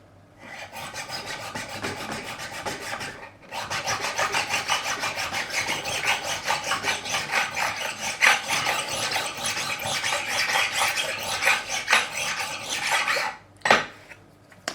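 Guitar frets on a Korean-made Fender Light Ash Telecaster being filed during a re-fret: a long run of close, rhythmic rasping metal strokes with a brief pause near the start and another near the end, no talk.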